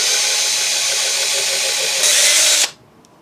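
A power drill whirs steadily into a wooden dining chair, rising slightly in pitch just before it stops abruptly, leaving near silence.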